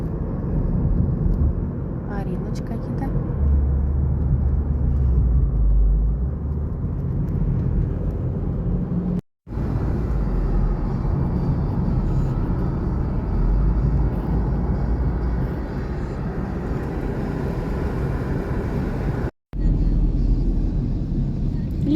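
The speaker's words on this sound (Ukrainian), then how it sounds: "літак полетів." A loud, continuous roar from an airplane engine rumbles steadily throughout, dropping out twice for a moment.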